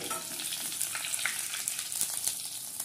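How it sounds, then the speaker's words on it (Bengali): Quiet, steady sizzling and crackling of a whole cauliflower frying in oil, turned until browned all over, with small pops scattered through the hiss. "পুরো কপিটাই উল্টে পাল্টে চারিদিকটাই ব্রাউন করে ভেজে নিলাম"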